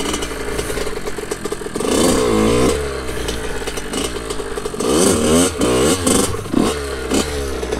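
A Kawasaki KX 80 motocross bike's small engine revs repeatedly, its pitch climbing and falling in loud, rasping bursts close by, with a brief quieter dip before revving up again.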